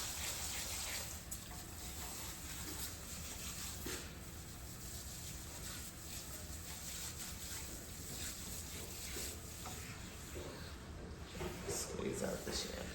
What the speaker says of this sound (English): when you're rinsing, just gently like squeeze out all the shampoo, rinse out the inside